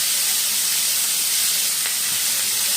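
Chopped medium onion frying in hot oil in a pan for a fish curry, a steady loud hiss and sizzle running unbroken throughout with no voices.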